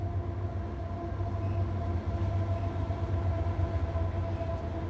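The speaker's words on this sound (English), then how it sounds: "That's a train going by." A steady low rumble with a faint hum persists throughout, like a train rolling past at a distance.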